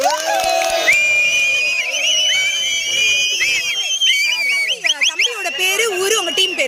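Festive crowd at a jallikattu bull-taming event in Avarampatti, with loud, continuous cheering, shouting and whistles, some clapping mixed in, and bright tonal calls rising over the noisy throng throughout.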